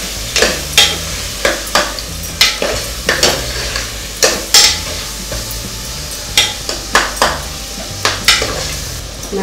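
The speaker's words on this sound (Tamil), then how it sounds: "தக்காளியை போட்டு" Tomatoes sauté in a pan for tomato rice, with a steady sizzle broken by sharp, regular scrapes and clinks of a spoon stirring against the pan, close and loud, with no voices.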